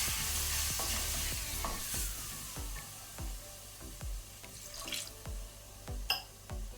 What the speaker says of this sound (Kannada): ಬೇಕಂದರೆ ಸ್ವಲ್ಪ ವಾಟರ್, ನೀರು ಹಾಕೊಳ್ಳೋಣ.